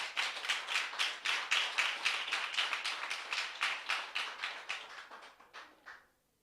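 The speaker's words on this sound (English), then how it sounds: "So please give the students a round of applause for a trying year" At a primary and infant school graduation ceremony, a small group claps in a clear, regular rhythm of distinct individual claps, fairly quiet and close, slowing and thinning out before stopping abruptly.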